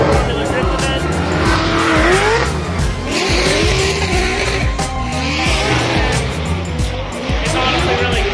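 Formula Drift cars run hard at the rebuilt Englishtown Drift Stadium, a former dragway. Loud engines wail and sweep up and down in pitch while tires squeal and skid continuously throughout.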